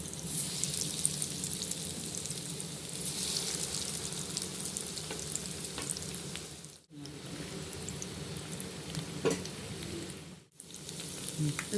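Chicken cheese rolls deep-fry in hot oil, giving a steady, dense sizzle and bubbling that runs close and continuous, broken by two brief silent gaps.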